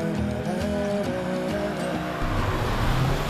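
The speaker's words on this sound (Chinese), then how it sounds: "你会发现它的 CVT 变速箱跟引擎发出来的声音其实还蛮明显的" A Suzuki SX4 crossover's 1.6-litre naturally aspirated engine and CVT gearbox drone steadily while climbing a mountain road uphill, a constant, fairly loud cabin hum with no talking.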